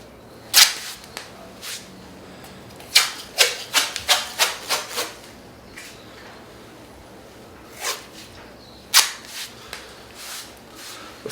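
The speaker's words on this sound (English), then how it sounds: "Anchors are then applied to secure the taping." Athletic tape being torn and pulled onto a shoulder while strapping an anterior inferior dislocation, giving sharp ripping bursts, a quick cluster in the middle and a few more near the end, close by.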